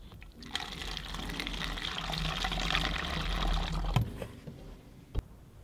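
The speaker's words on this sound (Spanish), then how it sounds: "y ponemos agua." Water poured through a silicone tube into a plastic bottle, a continuous close-up gushing pour lasting several seconds with small clunks near the end.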